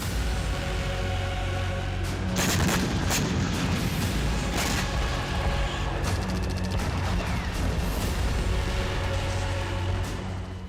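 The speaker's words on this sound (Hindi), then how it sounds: "अभी तक रूस की तरफ सिर्फ गोलियां और मोर्टार दागे जा रहे हैं।" Heavy bursts of gunfire and deep booming mortar blasts crack repeatedly over a dense rumbling background, some sharp reports close, others distant.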